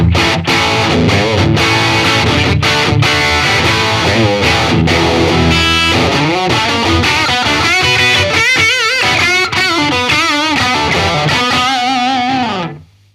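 Distorted electric guitar riffs pass through a UAD flanger modeled on a famous guitarist's unit, chugging chords and bent notes sweeping with a jet-like whoosh, loud and solo, ending in a ringing chord that cuts off.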